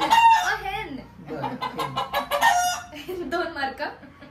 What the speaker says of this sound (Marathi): कोंबडीचाच आहे